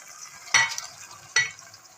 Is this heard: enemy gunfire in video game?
no